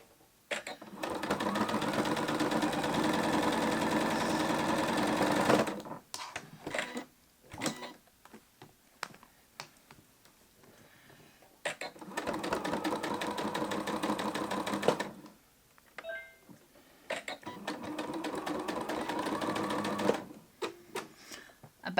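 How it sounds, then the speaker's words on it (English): A sewing machine stitches a quilted bowl cozy in three sustained whirring runs of steady rapid needle rhythm, separated by quieter gaps with light handling clicks and brief talk. "this is my last unicorn that I'm going to sew to in my last corner"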